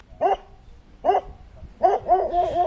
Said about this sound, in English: In fact, you can see the dog barking right now.